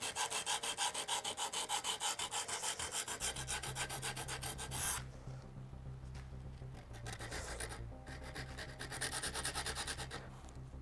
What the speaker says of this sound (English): That's a solid indication that you've sanded it down properly.